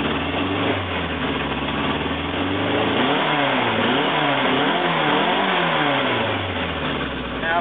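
Car engine revving with the mullet muffler opened up, a steady close, loud exhaust note that rises and falls in repeated throttle blips over a continuous rumble.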